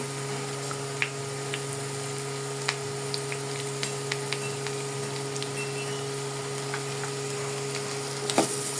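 Garlic paste fries quietly in a pan with prawns, a soft low sizzle under a steady hum, dotted with sparse small crackles and clicks.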